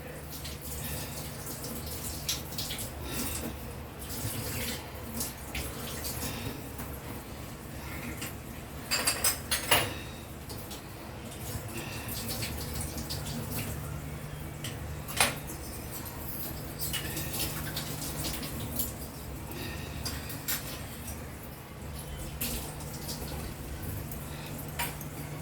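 Sugar syrup for rasgulla bubbles and simmers steadily in a pan, a continuous soft crackling patter with a few louder pops and splashes as the balls drop in.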